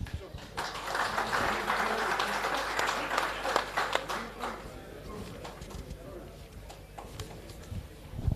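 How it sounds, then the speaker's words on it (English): Audience applause at a rugby club awards evening, a broad steady patter of clapping from a crowded room that thins out toward the end, with background voices and chatter throughout. "we applaud her nonetheless"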